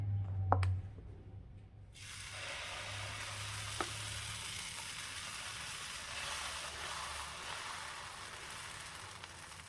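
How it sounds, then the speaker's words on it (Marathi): Dosa batter poured onto a hot greased pan, bursting into a steady, close sizzle that starts after a brief quiet moment and holds, with a faint clink midway. "आता आपण यामध्ये हे जे बॅटर तयार केलेलं आहे ते आता आपण टाकून घेऊया"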